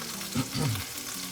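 A pot roast sizzles in a hot pan as it is flipped, a short burst of steady frying hiss with a brief thump from the turn. It is close and moderately loud, and no one speaks.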